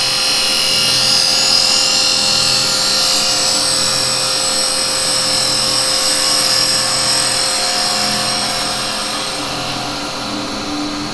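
A skew chisel making a bevel-controlled push cut on the lid of a threaded lidded pot spinning on a wood lathe, a steady high whirring cutting sound running continuously and fairly loud with the lathe's hum beneath, no talk.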